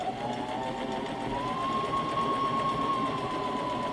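A sewing machine runs steadily, zigzag stitching around the edge of a merino wool diaper cover, its motor whirring continuously and close with a slight rise in pitch partway through.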